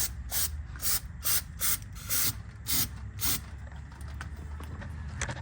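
Brake cleaner aerosol sprayed in a series of short, sharp hissing bursts, roughly a dozen in quick uneven rhythm, close and fairly loud, with quiet shop background between them.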